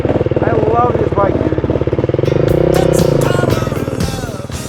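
A Beta XTrainer dirt bike engine runs steadily and close, its pulsing drone rising slightly in pitch midway through the ride, with faint voices mixed in underneath.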